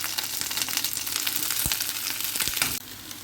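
Cut lettuce sautéing lightly in butter over low heat, a close, steady sizzle and crackle with a few soft stirring touches; the sound thins abruptly near the end.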